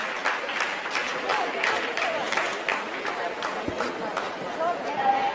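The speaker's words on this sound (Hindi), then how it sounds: "आप इस तालियों के गड़गड़ाहट को सुन सकते हैं" Scientists in the control room during the Chandrayaan-3 lunar landing clap in a rolling, crowded burst of applause, fairly faint and mixed with a voice talking over it throughout.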